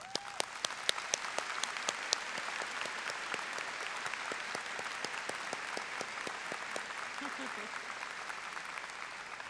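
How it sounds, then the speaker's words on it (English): Sustained applause fills a commencement ceremony hall as faculty rise, a steady wash of many hands clapping with sharp individual claps standing out and a brief voice heard faintly underneath. "Faculty, please rise and join us in giving them some applause."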